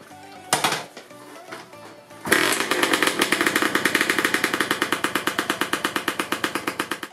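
A few short tugs and sputters, then a two-stroke motorcycle engine fires up and settles into a rapid, loud, buzzy idle with pulsing beats.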